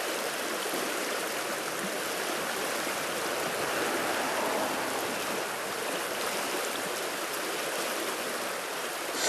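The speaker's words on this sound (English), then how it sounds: "the stream that we're on" A small trout stream runs after a week and a half of high water, giving a steady, close, broadband rush and babble of flowing water with no voices.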